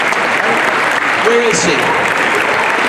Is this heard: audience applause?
yes